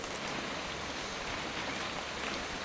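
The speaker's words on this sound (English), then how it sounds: "It's gonna rain the whole weekend, isn't it?" Steady, dense rain in the video game What Remains of Edith Finch, a continuous hiss of drops at even loudness with no voices.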